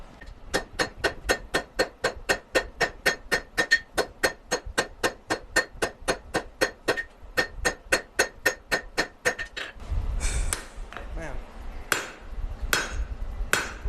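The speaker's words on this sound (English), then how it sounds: "I'll take my smaller hammer, do some texturing, do some" Hammer striking steel being forged and textured for a butterfly knife, a steady rapid run of sharp metallic blows at close range, followed by a few irregular heavier strikes and shuffling.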